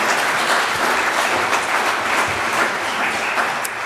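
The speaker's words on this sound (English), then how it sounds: "Everybody deserves a round of applause." Full audience round of applause at an evening memorial lecture, loud and dense, sustained evenly from start to finish before easing slightly at the end.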